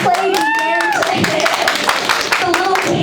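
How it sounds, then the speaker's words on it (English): A theatre audience claps in short bursts of taps and claps, mixed with a lively voice talking over the top. "Clap if you believe!"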